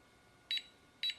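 A Nanny baby monitor sounds its pre-alarm: two short, identical electronic beeps about half a second apart, clear and fairly quiet against a near-silent room.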